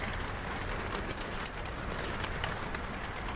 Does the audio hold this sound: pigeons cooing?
yes